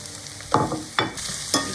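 Zucchini frying among softened onions in a hot pan, a constant sizzle with three clear stirring scrapes spaced roughly half a second apart, close and fairly loud.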